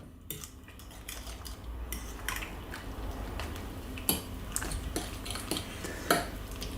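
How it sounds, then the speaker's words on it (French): Utensil stirring an Italian-style potato galette batter with olives and parmesan in a dish, soft scraping and squishing with a couple of sharper clinks against the dish, close and fairly quiet. "Là, je mélange."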